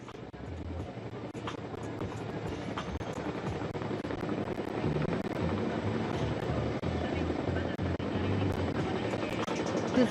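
Two Chinook twin-rotor helicopters hover side by side at an Indian Air Force Day air show, a steady, loud, dense rotor roar that builds slightly and holds without pause.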